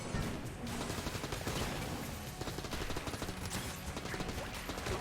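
A rapid-fire gun in Enter the Gungeon chatters continuously, a dense stream of quick shots mixed with impacts and game clatter, steady and moderately loud throughout.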